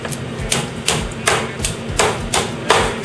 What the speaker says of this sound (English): he's going to take the hammer, he's going to